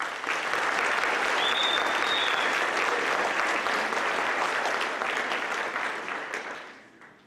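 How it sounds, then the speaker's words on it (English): An audience at a school scholarship and awards program claps for a scholarship recipient, a full, even burst of many hands that holds for several seconds before tapering off at the end. "So let's give Drake Williams a round of applause"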